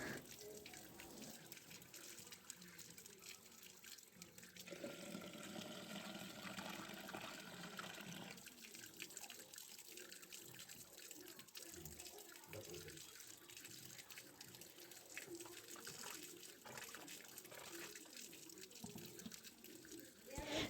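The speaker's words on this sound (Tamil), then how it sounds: "அதை நல்லா நம்ம வாஷ் பண்ணி எடுத்துக்கலாம்." Wheat grains from a ration shop being washed in water, a steady splashing and running-water wash that stays faint and continuous throughout.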